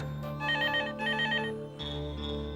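A telephone rings indoors with repeated electronic ring bursts broken by short pauses. The sound is clear and close, with no talking.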